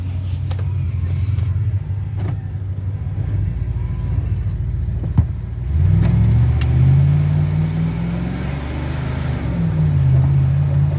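A 1990 Ford Econoline E250 van's engine rumbles steadily from inside the cab on a bumpy road, rising into a louder revving pull midway, with occasional rattles and no talk.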